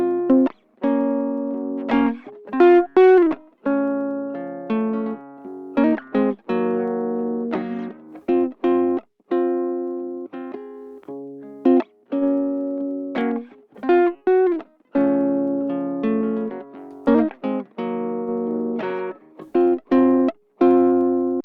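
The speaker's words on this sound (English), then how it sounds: "just a tiny amount of tube distortion here" A Logic Pro synth plugin plays a lightly tube-distorted melodic line of sustained notes and quick runs, with short gaps between phrases and no voices.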